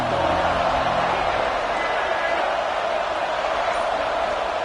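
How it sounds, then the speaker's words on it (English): A large stadium crowd at a football game keeps up a steady roar of noise throughout, loud and continuous, with a broadcaster's commentary running over it. "This crowd ready to make its presence known."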